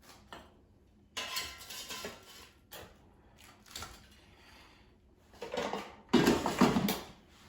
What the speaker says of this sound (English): Now let me take them out of the air fryer.